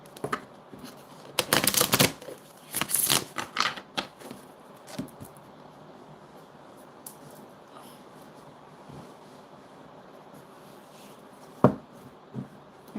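Tarot cards being shuffled in quick riffling bursts, then quieter handling with a few soft taps, close up with no talking.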